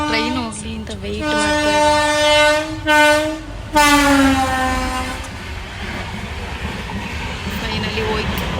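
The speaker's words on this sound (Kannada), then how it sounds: "ಟ್ರೈನ್ ಹೋಗ್ಲಿ ಅಂತ ವೆಯ್ಟ್" A train passes close by with a loud, sustained multi-tone horn sounding in several blasts, wheels and carriages rumbling underneath, then fading into steady rolling noise and outdoor bustle.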